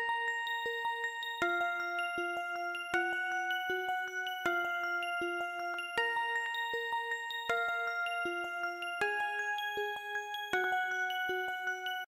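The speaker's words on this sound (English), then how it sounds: "Then I opened up this bell with harmonics preset in Purity and drew out these" A bell-like synth preset with bright harmonics, from the Purity plugin in FL Studio, plays a slow, dark repeating melody of clear, evenly spaced notes with a soft attack, steady and close, no voices.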